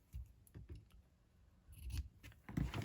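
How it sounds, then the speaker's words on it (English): Scissors snip the ribbon ends on a handmade craft gift, a few quiet close cuts spaced over a few seconds with no talk. "Snip the ends."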